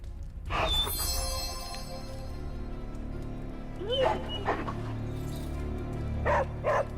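A dog in the Marvel's Midnight Suns video game gives a few close barks and yips in short bursts, with a pause between the first bark and the later ones, over steady low game ambience.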